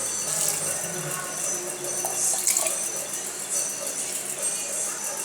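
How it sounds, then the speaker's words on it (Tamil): Coconut milk pouring steadily into a pot, a continuous splashing trickle with a few faint clinks, close and moderately quiet. "1 கப் தேங்காய் பால் ஊற்றுறோம்"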